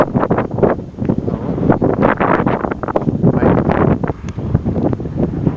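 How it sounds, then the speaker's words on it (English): Strong wind blows across the microphone on a hilltop during a hike, loud and close, with continuous rumbling buffeting gusts. "It's bloody windy."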